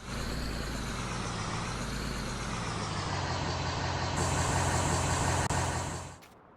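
A truck pulls up in the Farming Simulator 19 video game, its engine rumbling steadily and close for several seconds with a brief air-brake hiss before the engine noise suddenly cuts off. No talking is heard.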